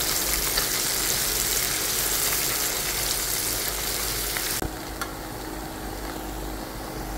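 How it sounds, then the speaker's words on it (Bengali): Chopped onions frying in oil for chicken curry, a continuous loud sizzle with faint stirring, dropping in level midway after a brief clack. "পেঁয়াজগুলোকে নেড়ে চেড়ে বাদামি রং হয়ে আসা"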